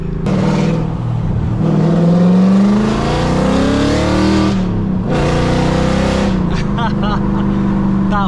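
Loud Audi RS6 V8 accelerating hard, engine note climbing through revs, a brief drop around a gear change, then rising again, close and dominant with a voice talking over it.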